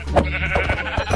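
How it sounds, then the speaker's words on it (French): Sheep bleating in the video game Minecraft, several short bleats close together over a steady low background, with no talk. "Ouais, des moutons."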